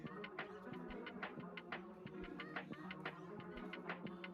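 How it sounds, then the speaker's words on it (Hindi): Indian chickens at a zoo cluck and squawk in quick, irregular bursts, with a rooster-like call mixed in, fairly faint against a low background hum. "ये है अपने हिंदुस्तानी मुर्गे।"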